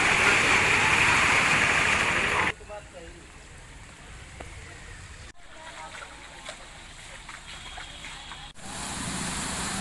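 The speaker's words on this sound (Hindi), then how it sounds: "मोती लेदा का बनहत्ती गांव में पानी बह रहा है।" Water gushing steadily from a burst pipe in Banhatti village, Moti Leda; a loud rushing flow opens the scene, then drops to a quieter steady trickle and swells again near the end, with a voice talking over it.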